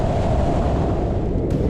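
Swollen monsoon cascades at Tamhini Ghat give off a constant powerful rushing roar, close and loud, unbroken from start to finish with no talk.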